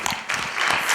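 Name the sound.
applause for the panel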